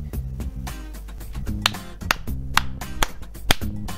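Sharp clapping in the video game Roblox Cursed Islands sounds as a quick series of crisp, close snaps in an uneven rhythm, with a low musical tone pulsing underneath.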